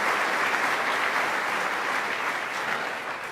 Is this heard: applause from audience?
yes